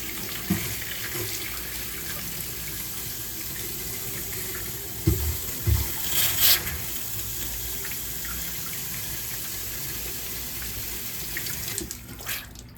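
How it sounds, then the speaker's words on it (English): A dishwasher filter is rinsed under a running kitchen sink faucet, a steady close hiss of flowing water with brief splashing changes as the filter is moved in the stream. "just bring it over to the sink, and you can see here, we're just gonna rinse that out"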